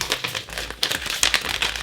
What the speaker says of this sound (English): she had a piece of paper and she folded it,